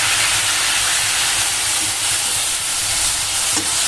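Cooked eggplant goes into a hot pan of frying bitter gourd for a traditional salted karela dish, giving a loud, steady, close sizzle and hiss throughout with no talking.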